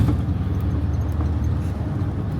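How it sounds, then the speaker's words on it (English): A minibus travelling in Georgia, heard from the back seats: a steady, close low engine and road rumble that runs continuously, with no voices. "We're now at the back of another bus."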